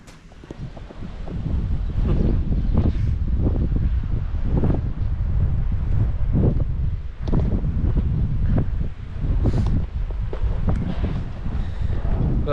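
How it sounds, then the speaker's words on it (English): Strong wind buffets the microphone in a steady roar with gusty surges at a harbor lookout point in Bari, Italy, loud and close, no talking. "Well, it's a bit windy here."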